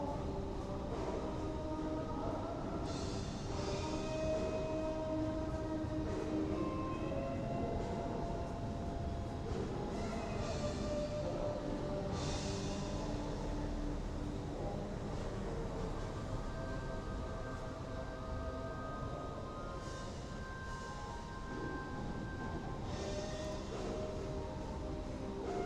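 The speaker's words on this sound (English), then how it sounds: "Okay, I hear a train." A train rolls past in a Tokyo alleyway, a long, low rumble and clatter of wheels on rails at moderate distance, with faint squeals and tones rising over it for the whole stretch.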